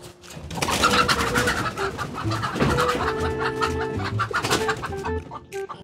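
Hens cluck busily up close while offered their own egg and meat, with repeated short calls and a few cooing notes mixed in.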